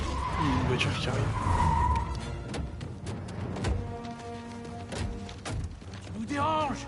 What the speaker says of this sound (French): Une voiture qui arrive.